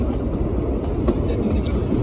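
Toy train on the Kalka to Shimla line, a steady broadband rumble of carriages rolling along the track, close and continuous for the whole short stretch, with faint voices mixed underneath.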